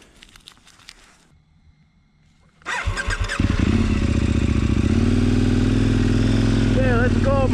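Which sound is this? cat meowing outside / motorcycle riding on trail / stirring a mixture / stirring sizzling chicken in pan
motorcycle riding on trail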